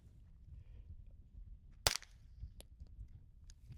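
A single sharp gunshot from a handgun fitted with a Stealth Additive Works SHIV suppressor firing 150 grain rounds, one loud crack mid-clip followed by a couple of faint ticks over quiet outdoor background.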